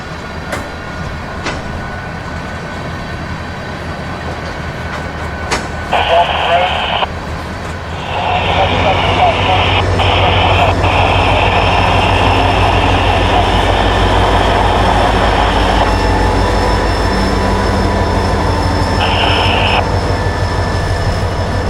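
Freight train 903 shoves back toward Fort Pierce Yard after working at Palmdale Oil: a loud, continuous rumble and grinding roar of railcars with a squealing tone, building after a quieter start and lasting throughout.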